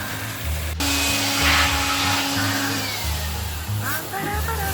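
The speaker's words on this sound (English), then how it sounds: "That's how they're going to dry the air conditioner with a leaf blower" A leaf blower drying a washed window air conditioner in the Philippines roars steadily and close, with a brief sharp click near the start and slight shifts in pitch as the airflow moves.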